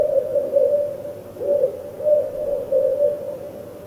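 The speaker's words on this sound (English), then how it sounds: "There's a sequence of owl calls." An owl gives a series of low, hollow hoots, close and clear against a quiet background, several calls in a loose, uneven rhythm.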